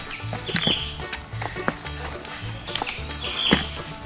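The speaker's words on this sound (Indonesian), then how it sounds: "Rame suara burung." Birds chirping along a mountain hiking trail on Mount Prau, scattered bright tweets over footsteps and a low rhythmic background.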